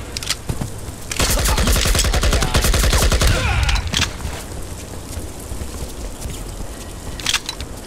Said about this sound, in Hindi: भाई कोई तो मुझे स्नाइपर से मार रहा है यार